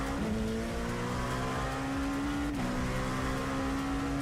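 An LMP2 prototype race car in the iRacing sim screams at high revs, a clean tonal engine note holding steady before one sharp pitch drop at an upshift, then carrying on alone without any voices.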